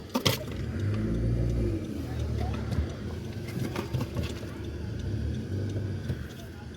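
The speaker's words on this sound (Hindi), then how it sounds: "गाड़ी अंदर थोड़ा सा मुश्किल जा रही है।" A car creeps slowly into the narrow entrance of a village house compound, its low engine rumble steady and fairly close while people talk nearby throughout.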